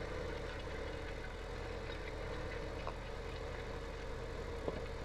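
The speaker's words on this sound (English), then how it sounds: "we're just watching this tractor drive back and forth" Tractor engine droning steadily as the machine drives back and forth in Farming Simulator 2017, a constant low mechanical hum with no break, moderately close and alone.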